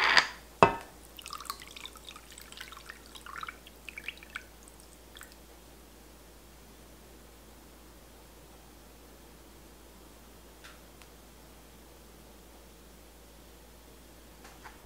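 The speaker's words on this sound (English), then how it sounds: "I'm gonna pour some more of the saturated brine in." Saturated brine is poured into a shallow cheese vessel while making wine-soaked Manchego. A few close splashes and drips come first, then quiet trickles and faint drips fade into near silence.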